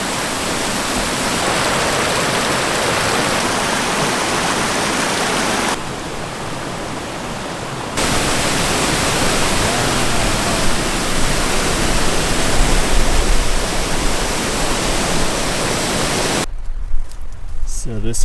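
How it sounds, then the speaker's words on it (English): Dunbrook Cascades waterfall on the Appalachian Trail in Maine, a loud, steady broadband rush of falling water filling the whole stretch, with a brief dip midway and someone speaking near the end. "This is Dunbrook Cascades."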